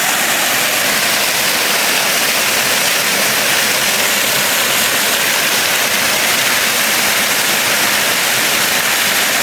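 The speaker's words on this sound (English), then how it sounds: "Today I decided to come here in this waterfall" A waterfall in Kenya roars loudly and steadily, a dense, unbroken wash of rushing, crashing water close by with no voices.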